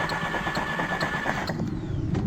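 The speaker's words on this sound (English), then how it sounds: "just turn your engine over." A flood-damaged Volkswagen Golf Mk4 engine cranks over with a rhythmic chugging, loud and close, the starter turning repeatedly before the sound shifts near the end.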